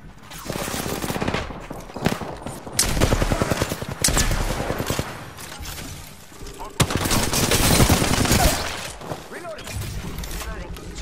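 Rapid automatic gunfire rattles through an Apex Legends firefight in loud, dense bursts, with heavy impacts and shattering mixed in. A voice speaks over the shooting.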